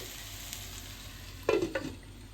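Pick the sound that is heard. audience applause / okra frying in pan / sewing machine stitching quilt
okra frying in pan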